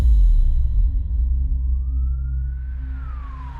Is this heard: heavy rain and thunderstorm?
no